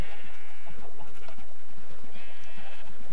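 Sheep in the video game Minecraft bleat repeatedly over a dense bed of game noise, several wavering bleats in a row, loud and near with no voices.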